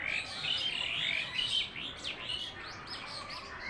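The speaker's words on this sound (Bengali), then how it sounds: "দেখো পাখি দেখো ওই দেখো ওই দেখো ওই দেখো কি সুন্দর ডাকছে" A bird hidden among leaves calls in a string of bright, repeated chirps and tweets, fairly close and clear over soft background hiss.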